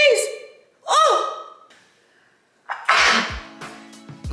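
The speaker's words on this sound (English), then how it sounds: "I'm gonna sneeze" A person with bad allergies lets out a loud, close sneeze with a sharp gasping intake and burst, followed by a rustling, clattering noise.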